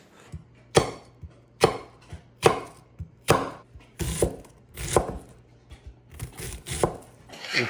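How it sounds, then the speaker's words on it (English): A knife chops through an onion on a board, about a dozen crisp, close thuds at an uneven, unhurried pace, with quiet pauses between cuts. "I'm also going to cut up some onion that we can saute and enjoy with our bean burgers"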